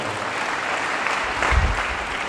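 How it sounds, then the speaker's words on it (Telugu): A crowd applauding at a closing ceremony, a dense steady patter of many hands clapping that swells briefly midway, heard from within the room. "ఒకసారి గట్టిగా చప్పట్లు పడదాం"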